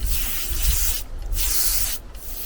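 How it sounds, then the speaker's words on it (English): Compressed air hissing from a Goodyear air hose on a retractable reel, a close, loud broadband rush interrupted twice by short breaks as the hose is moved around. "Hopefully you can hear the air coming out of this thing as I wiggle it around."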